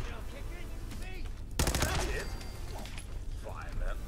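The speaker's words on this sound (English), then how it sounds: "I guess this gun's more effective at fucking hip firing than aiming down sight." Rapid bursts of hip-fired gunfire from a weapon in Fallout 4 crack out in a dense volley midway, with scattered shots and game sounds around it and a voice talking through parts of the clip.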